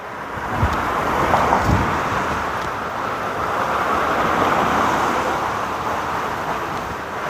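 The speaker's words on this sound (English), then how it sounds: "the wind is kicking it" Strong, gusty wind roars steadily into an outdoor microphone, a dense, continuous rumble with no speech.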